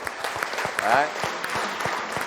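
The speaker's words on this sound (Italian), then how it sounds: "alla nostra squadra un bel applauso" Applause for the team at the close of an Italian local sports TV broadcast, clapping under a background voice and a brief rising tonal sound, moderate and steady.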